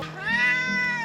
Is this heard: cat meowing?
yes